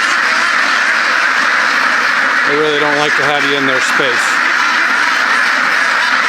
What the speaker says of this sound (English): And ducks don't like to perch or do anything, just run around and quack.